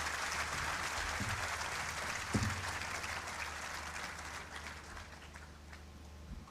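An audience at a university lecture hall claps steadily in thanks, a moderate, fairly distant applause. It carries on evenly with one louder thump and slowly fades.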